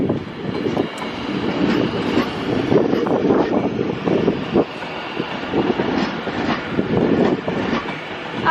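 A Class 390 train, unit 390-044, rolls into a platform at Crewe station, a loud rumbling approach with rhythmic wheel clatter and rising and falling mechanical roar throughout.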